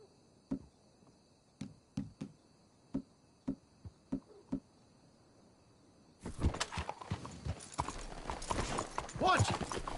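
Hooves clip-clop at a slow, uneven walking pace on hard ground, several distinct knocks, then louder rustling and movement noise takes over.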